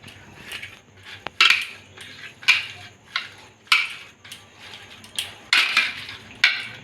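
Soft crumbly chhana is poured onto a plate and kneaded by hand, giving a series of gentle rhythmic squishing and pressing sounds with faint clinks against the plate, close and quiet.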